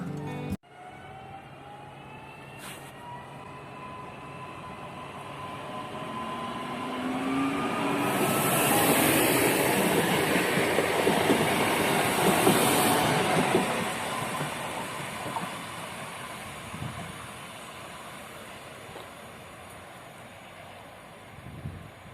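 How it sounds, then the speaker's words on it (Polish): A Regio train from Szczecin Główny to Świnoujście slowly departs, with a low rumble building to a hissing, rattling peak midway, then fading as the cars roll past on the rails. "Tak więc czekam na odjazd tego pociągu"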